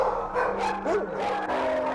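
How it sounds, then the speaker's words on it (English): An old female husky, long used for breeding, barks and yelps in a kennel amid other dogs, with short sharp barks rising over a noisy chorus of canine voices. "Here we've got an old female dog, probably been used for breeding for years and years and years."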